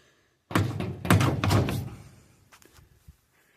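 Metal compartment doors on a bucket truck are shut, one heavy slam followed by rattling thunks and a few lighter clanks that fade, close by and with no talk.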